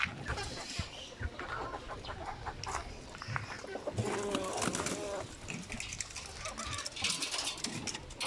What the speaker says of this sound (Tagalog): heritage na mga manok